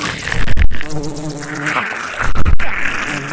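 Buzzing from an animatronic bug Halloween prop, a Spirit Halloween 2026 animatronic, with insect-like droning wing noise that swells and dips, loud and close throughout.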